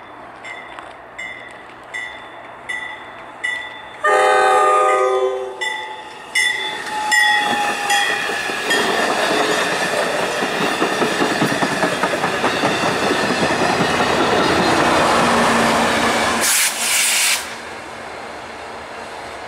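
A CSX freight train passes near a railroad in the St Denis and Baltimore City area, horn blasting in short bursts before a loud, sustained roar of wheels and cars rolling by, with squealing and clickety-clack, then fading.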